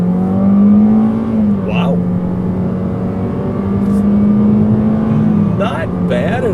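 A Toyota Corolla Hatchback XSE with a CVT accelerating up a freeway on-ramp, its engine droning at a steady, sustained pitch from inside the cabin, loud and close, with a brief spoken exclamation over it.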